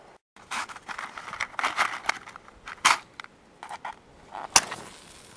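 Small twigs in a wood burning stove catching alight, giving sparse crackles, a few sharp pops and brief rustling bursts at close range, with quiet gaps between them.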